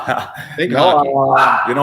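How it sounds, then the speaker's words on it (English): A big dog barks and yips in the background, its short repeated barks mixed in with close conversation between men. "I think that's my dog"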